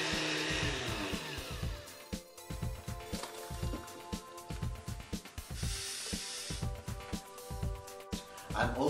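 A blender purees whole peeled tomatoes for a restaurant-style dal makhani, its whirring motor rising and falling in short pulses with wet, squishy churning, close and fairly loud throughout.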